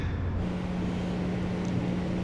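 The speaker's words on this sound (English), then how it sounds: "You can probably hear all the construction in the background." A steady, dense rumble of road construction machinery drones continuously in the background with a low engine hum, like heavy equipment working at a distance.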